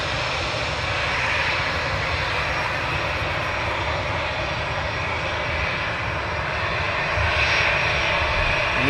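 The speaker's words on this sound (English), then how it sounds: "just departing now. Long way down the runway." An Easyjet airliner departs down the runway at Manchester Airport, producing a loud, steady engine roar that holds for the whole stretch and swells slightly near the end, with no talking.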